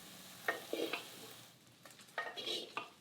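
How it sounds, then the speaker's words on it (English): Cooked rice and ghee are stirred together in a pan, giving a few short, close scraping and mixing strokes over a faint sizzle. "Finally, mix in cooked rice and a dollop of ghee."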